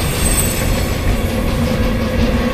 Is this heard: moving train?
yes